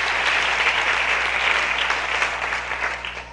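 Audience at a live outdoor performance in Tzucubal, Nahualá, gives loud sustained applause, a dense steady clatter of many hands that tapers slightly toward the end.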